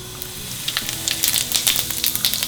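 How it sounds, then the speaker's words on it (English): Cumin seeds sizzle in hot oil in a pan, a dense close crackle with rapid bright pops that thicken through the short burst, no voices. "So as soon as your oil gets hot, the first thing you put is the jeera seed."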